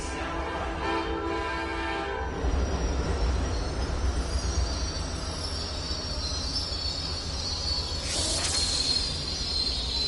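A passenger train pulls into a station in the Roblox Rail Sim game, a steady rolling rumble with a brief high wheel squeal partway through and a faint distant voice announcement at the start.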